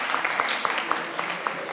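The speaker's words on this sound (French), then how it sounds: "Donc lycée de Bréquigny, on peut les applaudir." Audience applauding a high school group at an event, a brief burst of scattered hand claps with a few distinct sharper claps standing out over a light crowd background.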